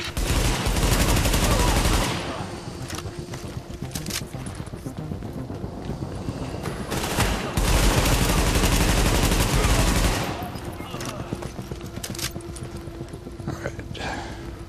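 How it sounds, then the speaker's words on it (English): Gunfire from The Division video game: dense automatic-weapon fusillades in two loud, sustained bursts with scattered shots between them, over a steady background of combat ambience. "Reporting gunfire in the station above us."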